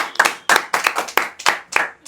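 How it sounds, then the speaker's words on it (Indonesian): Young audience members at a talk-show event in Pasuruan give a sparse round of hand claps, about eight crisp, close individual claps in a loose, uneven rhythm that thins out toward the end. "tepuk tangan."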